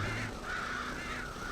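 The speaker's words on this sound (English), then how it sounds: "Scare the crows?" Crows caw near a corn silo in Red Dead Redemption: a few harsh, rasping calls in quick succession, loud and close, with no talk over them.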